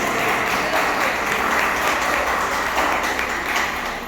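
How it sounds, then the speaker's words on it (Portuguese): A church congregation claps steadily in dense, sustained applause throughout, loud and unbroken with no voices standing out. "dá mais uma salva de palmas bem grande para Jesus"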